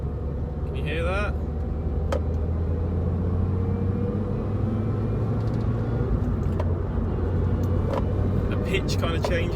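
Car engine droning steadily from inside the cabin while driving, a continuous low hum and rumble whose pitch shifts slightly as the gears change, with a person talking over it.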